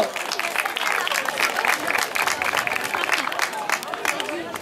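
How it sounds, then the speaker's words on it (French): Outdoor crowd clapping for the winner at a youth cyclo-cross podium in Châteaugiron, sustained and moderately loud with murmuring voices mixed into the applause throughout. "je crois qu'on peut les applaudir de nouveau"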